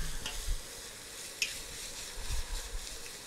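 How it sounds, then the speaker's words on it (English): Food sizzling steadily in a frying pan while it is stirred around, with a continuous fry hiss and a few soft utensil scrapes and taps, close and moderately quiet with no talking. "what I'm going to do is just stir it around a little bit"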